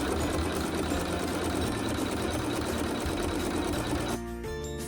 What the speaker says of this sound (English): it'll sew up a zigzag stitch on the outside of the wool